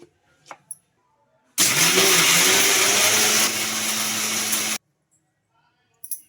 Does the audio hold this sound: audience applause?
no